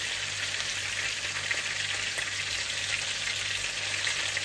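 Chicken chops fry in their own rendered fat in a pan with no oil added, a steady close dense sizzle and crackle running unbroken throughout, no voices.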